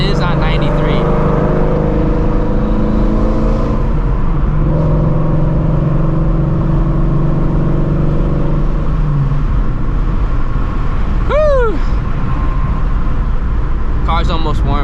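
A Ford Shelby GT350 engine idles loudly while warming up, with the steady rumble rising into short revs near the end.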